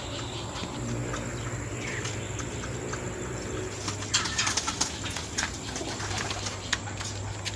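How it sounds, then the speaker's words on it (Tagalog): Racing pigeons coo softly and repeatedly in the background during training in Bocaue, Bulacan, with intermittent wing flaps and scuffling over a steady low hum. "Papasok na mga kalapatids."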